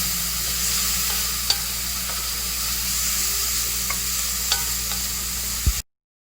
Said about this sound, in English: You're going to want to stir the garlic and the onions together.